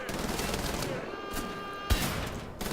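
Turret gunfire in Wolfenstein: The Old Blood, a first-person shooter: a rattling burst of rapid shots with a heavier blast midway and more firing after, loud and close over the game's background din.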